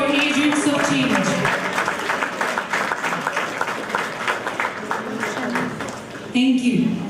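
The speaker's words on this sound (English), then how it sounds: "A big round of applause for agents of change." Audience applause at an annual charity fundraiser, dense steady clapping from a sizable crowd sustained throughout, mixed with voices and cheering, with a brief louder swell near the end.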